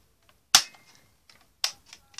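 A Nerf Hammershot toy blaster fires with two sharp plastic snaps about a second apart, each closely followed by faint clicking of the mechanism, heard in a quiet room.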